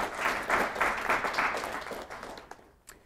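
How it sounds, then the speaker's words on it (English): A lecture-series audience at an EPICS leadership event gives a speaker a brief round of applause. The clapping is moderately loud at first, then thins and fades out within a few seconds. "So please give a round of applause to Tricia"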